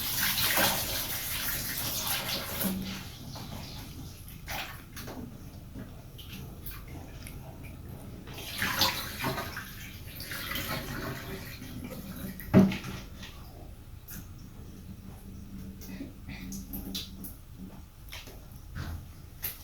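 Water sloshes and splashes in a basin as lobsters are rubbed and rinsed, with intermittent pours and a sharp knock, close by and fairly quiet.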